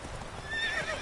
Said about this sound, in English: There's a horse down here.